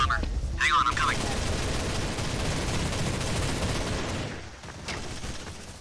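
Gunfire from the Counter-Strike: Source video game: a dense, sustained burst of shots and clatter under continuous game noise, with a brief lull near the end before more activity.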